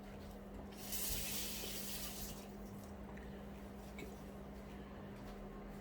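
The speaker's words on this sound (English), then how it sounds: "let me wash my hands" Running tap water splashes as hands are washed in a home kitchen while masala fish is being made, a brief soft hissing burst that fades into a quiet room.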